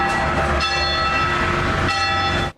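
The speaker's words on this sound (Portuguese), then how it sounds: "O badalar dos sinos na Igreja Matriz Nossa Senhora da Conceição, no centro de Guarapari" Church bells ring at the Igreja Matriz Nossa Senhora da Conceição in central Guarapari, sustained, overlapping metallic tones sounding loud and continuous for the whole stretch, with a fresh strike renewing the ring partway through, no voices.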